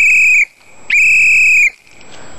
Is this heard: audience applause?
no